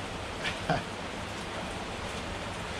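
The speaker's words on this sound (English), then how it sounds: "it's raining here in Thailand" Steady rain in Thailand hisses evenly throughout, a dense wash of noise with a couple of brief nearby knocks early on.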